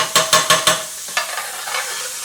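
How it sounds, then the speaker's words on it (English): Garlic and ginger paste sizzling in a pan for a restaurant-style prawn pathia, four quick rhythmic spatula taps up front, then a softer steady sizzle with a few scrapes, close and loud. "It's just sizzling nicely."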